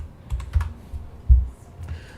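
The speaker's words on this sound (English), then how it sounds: "I'm gonna hit J on the keyboard" A few separate computer keyboard key presses, the J key among them, sound as distinct soft thumps and clicks at an uneven pace, close and fairly quiet with no voice.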